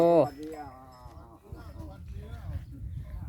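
A Murrah water buffalo gives a loud, close moo at the start that fades into a low drawn-out call, followed by farmyard background noise and faint voices.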